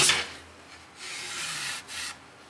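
Wood stain being spread by hand over an unfinished wooden award board, giving soft, steady rubbing strokes in a few close bursts with brief pauses between them.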